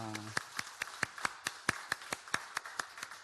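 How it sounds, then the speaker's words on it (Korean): Worshippers at a Sunday church service clap in welcome for a newly registered member, giving quiet, evenly spaced sharp claps in a steady rhythm, with a brief low tonal sound at the very start. "잠깐 일어나시면 우리가 박수로 환영할까요?"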